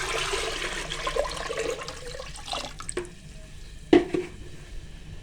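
About 1.5 litres of water pours into a pressure cooker on a stove, a steady splashing rush that fades after a few seconds, followed by a sharp metallic clank.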